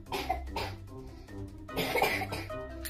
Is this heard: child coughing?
yes